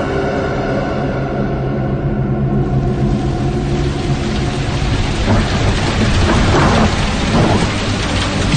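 Heavy rain pours without letup, joined by rolling thunder, a loud dense roar with deep rumbles building near the end, no voices.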